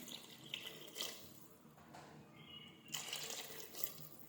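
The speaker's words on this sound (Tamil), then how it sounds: "தண்ணி மூழ்கிற வரைச்சு சேர்த்தா போதும்" Water pours and splashes into a pressure cooker holding moong dal and bottle gourd in uneven gushes, faint and close, with no one speaking.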